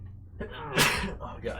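A single sharp human sneeze bursts out at close range, followed by a short muttered remark from the same voice.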